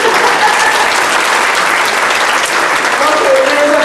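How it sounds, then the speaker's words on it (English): Sustained audience applause fills the room, a dense, steady wash of many hands clapping at close range throughout, with no talking over it. "Give me a round of applause for my father-in-law."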